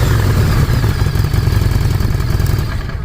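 Harley-Davidson XG500 beginner motorcycle engine running steadily nearby, a loud continuous low rumble with mechanical clatter and slight rev fluctuations, no voices.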